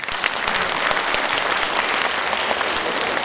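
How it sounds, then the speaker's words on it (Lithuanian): An audience at a 2017 jubilee concert in Jonava applauds, with dense, sustained clapping at a steady loudness throughout. "kur jūsų plojimai?"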